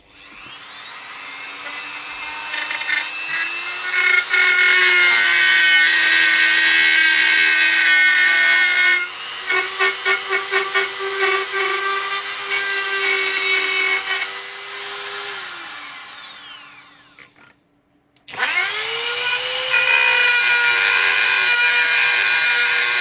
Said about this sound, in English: You could probably actually get away with carefully using your Dremel without the actual circular bit on.